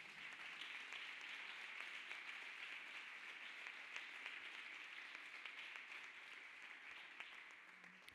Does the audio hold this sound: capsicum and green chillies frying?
no